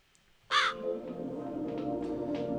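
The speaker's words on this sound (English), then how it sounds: "That crow cocking in my ear." A single loud, harsh crow caw from the video game Back to Bed, sharp and close, followed by a soft steady background hum.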